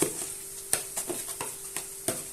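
Bulgur for çiğ köfte is stirred briskly in a bowl. Quick, regular scraping strokes come about every quarter second over a soft continuous hiss, fairly close and alone.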